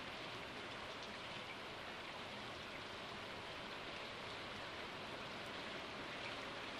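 Steady rain falls in the farming video game Stardew Valley, a dense continuous hiss of drops with even loudness and no breaks, heard alone without any voices.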